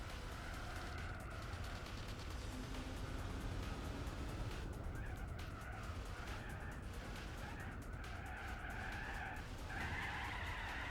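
Car tires skid through oversteer in the Gran Turismo 4 racing game at a Corvette festival event, a faint, continuous screech blended with engine drone throughout.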